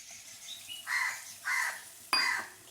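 Three harsh crow caws ring out one after another at moderate distance, each a loud rasping burst over a quiet background.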